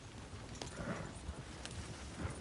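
Horse hooves clip-clop steadily in Red Dead Redemption 2, an even walking rhythm of fairly close hoofbeats over a low background bed.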